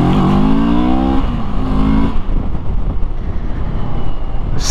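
A Moto Morini motorcycle engine accelerates hard, its rising whine climbing through gears with a shift around the one-second mark, then fading into steady wind and road rush.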